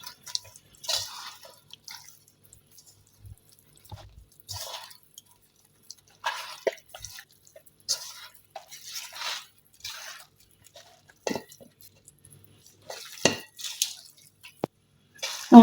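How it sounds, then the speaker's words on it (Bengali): Bare hands knead raw chicken pieces with ginger-garlic paste and cumin paste, giving soft wet squishes and drips in short bursts with quiet gaps, close by. "এখন আমি এই পুরো মাংসটাকে সুন্দর করে মেখে নিব।"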